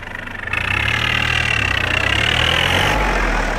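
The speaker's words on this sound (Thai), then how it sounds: "เครื่องเลียร์ดีนะครับ เป็นเครื่อง 3 สูบขับโฟวินได้นะครับ" A used 2009 EF352T four-wheel-drive tractor with a three-cylinder engine idles close by, loud and steady, with a fast even chug after a quick rise at the start.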